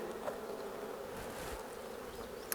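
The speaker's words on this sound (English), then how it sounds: "So all of these honeybees are working to save and prepare for the colony for the winter time." Honeybees buzzing around an open hive during an inspection, a steady, close, moderately quiet drone of many wings with no voices.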